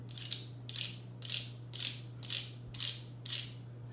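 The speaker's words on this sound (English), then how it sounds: "I found a pine cone outside. Wonder what happens if I scrape it." Seven evenly spaced rasping scrapes of a pine cone, bright and scratchy, repeating steadily about every half second over a low constant hum.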